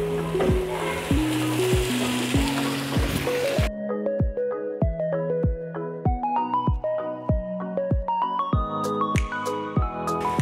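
Chicken pieces tossed into hot oil with light-brown onions for biryani give a steady, close sizzle that carries on under a melodic tune with rhythmic struck notes.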